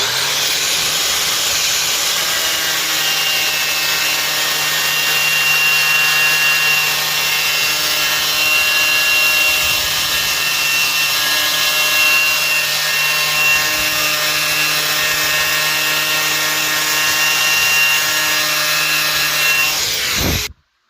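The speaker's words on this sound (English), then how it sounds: "the wire wheel does a pretty good job" A worn wire wheel grinds rust from the metal of a Camaro Z28, a loud continuous abrasive whine with a steady motor hum and high whistling tones, running unbroken close up for about twenty seconds before cutting off.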